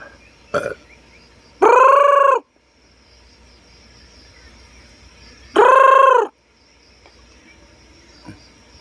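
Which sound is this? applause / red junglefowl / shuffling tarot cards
red junglefowl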